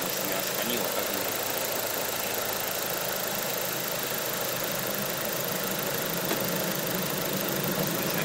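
An Audi A4 engine runs steadily with all electrical loads switched on during a test of an upgraded 320A alternator, giving a constant close, loud mechanical drone with no breaks.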